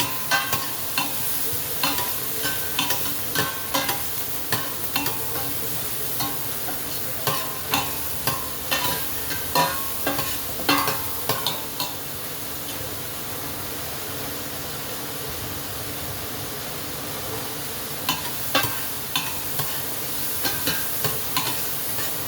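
Carrots and celery sizzle steadily in a pan while a utensil scrapes and stirs them in repeated bursts, the clicking strokes pausing briefly midway before resuming over the continuous frying hiss.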